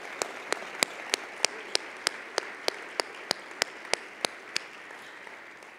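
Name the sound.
audience round of applause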